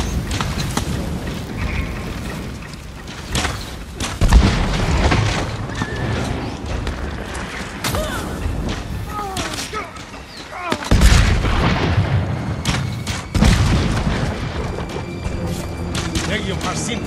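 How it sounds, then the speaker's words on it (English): Siege weapons fire in Ghost of Tsushima during a battle at a fortress wall, heavy booming thumps landing at irregular intervals over a continuous roar of combat, with voices speaking throughout. "Siege weapons."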